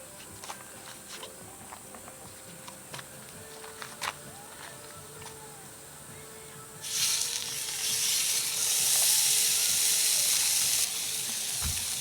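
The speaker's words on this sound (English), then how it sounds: "Going to sear it and brown it on both sides" Beef arm roast hitting a hot Dutch oven, a sudden loud sizzle that swells and holds after scattered clicks and handling noises, sustained close by.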